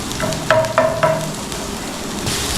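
Onions sauté in a pan with curry leaves, dried red chillies and green chillies. A loud steady sizzle carries three quick stirring knocks near the start, and there is no speech.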